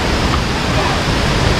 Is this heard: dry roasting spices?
no